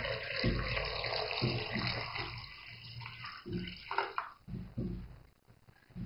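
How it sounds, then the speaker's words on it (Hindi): Water is poured from a tap-like stream into a cooking pot while making peach juice at home, a steady splashing rush with some clunks and irregular bursts that thin out toward the end. "1 लीटर मैंने इसमें पानी ऐड कर दिया"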